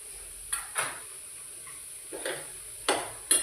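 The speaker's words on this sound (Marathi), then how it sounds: "दुसरे हे वाटण टाकलेलं आहे कांदा खोबऱ्याचं ते आपण जरा परतून घ्यायचं आहे" Onion-coconut paste stirred and sautéed in a pan, with a spoon scraping and knocking against the metal in several separate, close strokes over a faint quiet sizzle.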